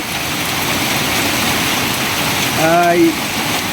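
Steady rain falling on a farm, an even hiss filling the whole stretch, with a brief voice or animal call cutting through near the end.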